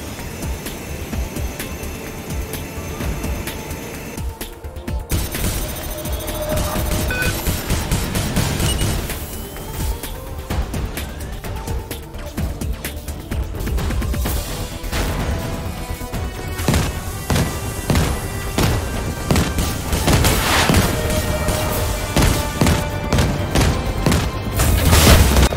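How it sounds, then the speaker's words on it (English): Gunfire and explosions from shooting at turrets in the space game Conflict of Stars: loud, constant rumbling booms with rapid crackling shots layered over a droning engine-like roar that builds toward the end. "we can just shoot at the turrets"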